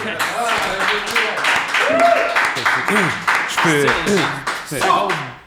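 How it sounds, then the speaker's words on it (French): Audience applause at an episode of the Rince-Crème show, a steady dense wash of clapping for about five seconds with excited voices, laughter and shouts layered on top throughout. "Applaudissez!"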